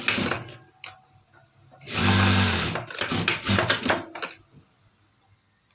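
A sewing machine stitches the front-and-back shoulder seam of a chudidar in one short burst of fast, close rattling, with quieter handling clicks before and after.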